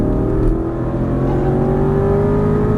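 An Aston Martin V8 Vantage GT race car accelerates at full throttle, its engine a loud, sustained roar that climbs steadily in pitch, close and continuous, with no talking.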